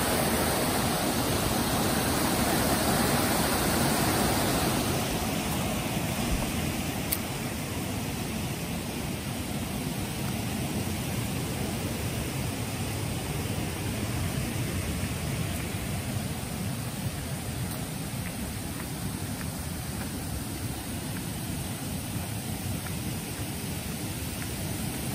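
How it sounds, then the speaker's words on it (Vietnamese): A natural stream running over rocks in a Lâm Hà garden, a steady broadband rush of water that is louder in the first few seconds and then continues evenly and fairly softly throughout. "Đó, suối chảy rất là đã luôn."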